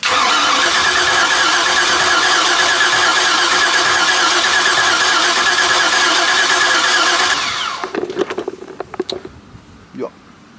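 A boat engine on a vessel cranks and catches as fuel reaches the carburettor, giving a loud, sustained buzzing run for about seven seconds before cutting out abruptly, followed by scattered knocks and clatter.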